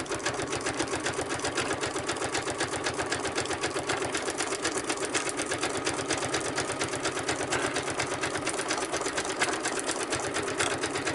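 A sewing machine stitches fabric at a fast, even pace, its needle pulsing in a continuous rhythmic whir, close and steady throughout with no voices.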